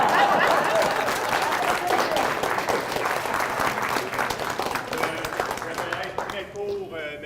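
Audience applause at a French-language talk on technology, a dense steady patter of clapping that gradually thins, with a voice emerging near the end.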